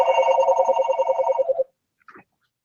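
A telephone bell rings loudly in a steady rapid trill for about a second and a half, then cuts off, followed by a brief faint sound.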